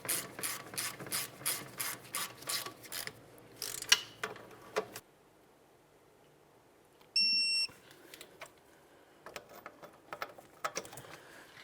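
A hand ratchet snugs the wheel hub mounting bolts on a 2007-2012 Nissan Sentra during a rear hub swap, making bursts of quick rapid clicking, then a quiet pause and a short electronic beep, before more clicking resumes.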